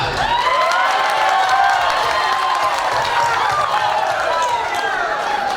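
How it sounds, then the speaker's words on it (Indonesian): A hall crowd at a regency candidates' debate in West Aceh erupts in loud cheering and shouting mixed with clapping. Voices whoop and rise in waves over a continuous roar with no quiet moments. "tepuk tangan buat kita"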